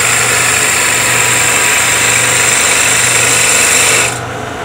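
Wood lathe spinning a screwdriver handle blank while a gouge cuts a slight taper, hand braced on the tool rest; a loud, steady motor-like whir with constant hiss runs unbroken, then drops off sharply near the end.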